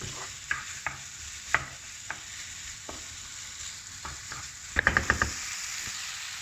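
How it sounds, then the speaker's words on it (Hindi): Chickpeas stirred with masala in a pan for a palak dish, soft frying hiss under sparse spoon knocks and scrapes, with a quick cluster of metallic clinks near the end, no voices. "1 से 2 मिनट तक इसको हम हिलाएंगे, ताकि जो चने हैं इस मसाले के साथ मिक्स हो जाएं।"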